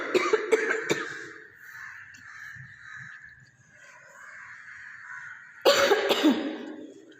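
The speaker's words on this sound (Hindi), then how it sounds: "पता नहीं इतनी खांसी क्यों हो रही है।" Repeated coughing from a person, a burst of several coughs at the start and another loud cluster near the end, with quieter background sound between them.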